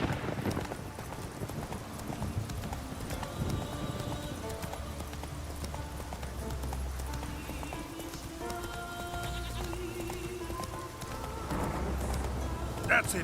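In The Witcher 3 on Skellige, a horse gallops with rhythmic clip-clopping hooves and an occasional whinny, set among game ambience with voices heard in places.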